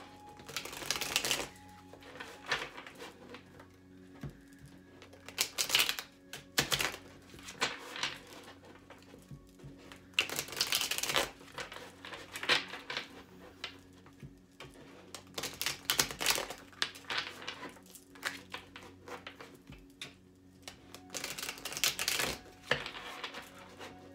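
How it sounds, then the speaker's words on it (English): A tarot deck is given a quick, soft shuffle, with faint intermittent riffles and card slaps scattered over a quiet room hum. "I'm going to do a quick shuffle here for the sign of Cancer before we move on"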